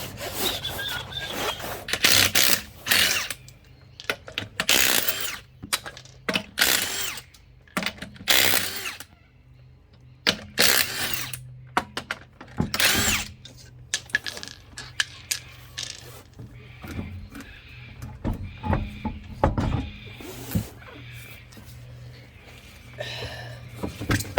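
Someone works at removing a wheel from a Jaguar XJC 6-litre V12 with hand and power tools, bursts of whirring, rattling and scraping spread across the span in irregular clusters, fairly close, with brief quiet gaps between.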